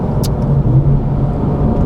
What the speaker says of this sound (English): The noise on the down change, it will auto blip for you